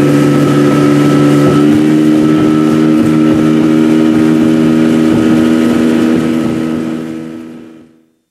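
A motorboat engine drones steadily at a loud, even pitch with a deep harmonic hum, then fades out near the end.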